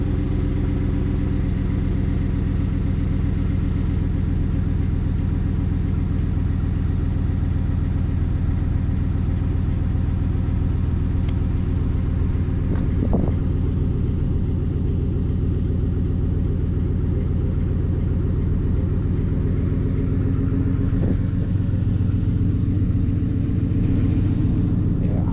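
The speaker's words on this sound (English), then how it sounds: "we are going to do Happy Turkey Day cold start" Chevrolet Silverado V8 cold-starting on a chilly morning and settling into a steady, loud idle through an MBRP exhaust, a deep continuous rumble that holds for the whole stretch with a couple of brief blips.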